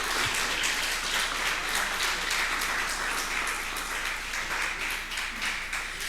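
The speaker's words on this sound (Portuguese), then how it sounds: "Então aplauda o Senhor bem forte." A church congregation applauding, a dense, steady patter of many hands clapping together that fills the room at an even level throughout.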